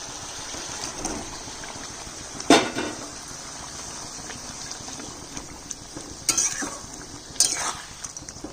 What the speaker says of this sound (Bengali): ঝোল ফুটে গেছে, এখন ভাজা মাছগুলো দিয়ে দিচ্ছি।